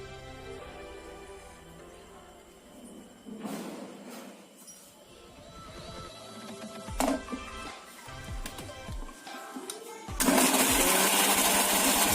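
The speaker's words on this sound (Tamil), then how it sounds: "இப்ப நம்ம இதை மிக்சி ஜாருக்கு மாத்தி அரைக்க போறோம்." A mixer grinder whirs loudly as it blends dates chutney in a mixie jar, with clinks and a rising roar near the end as the blade spins up at full speed.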